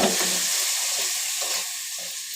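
Dried aair fish (shutki) is stirred into hot fried spice paste for a taro-leaf dish, giving a loud, close, continuous sizzle with scraping stirs that slowly eases, with no speech.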